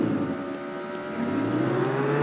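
A stolen car driving off in the video game Roblox Jailbreak, a steady loud engine drone that rises in pitch as it accelerates, close and continuous with no talk.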